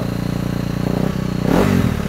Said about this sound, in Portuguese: liga a motoca aí pra galera ver como é que funciona